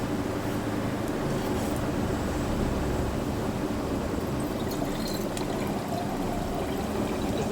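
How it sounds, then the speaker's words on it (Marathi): Water from a freshly opened coconut pours steadily into a large glass, a continuous close splashing trickle that stays even throughout with no talk over it. "मोठा ग्लास भरून निघलं पाणी"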